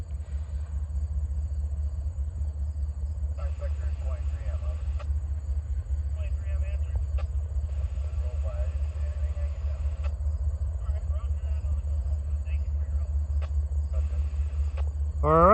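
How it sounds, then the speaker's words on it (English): Norfolk Southern freight train rolling past on the Pittsburgh Line in the countryside during a roll-by inspection, a steady low rumble and clatter of wagons throughout with intermittent squeals and clanks, loud and close. "the car inspector is doing a roll-by inspection of the train"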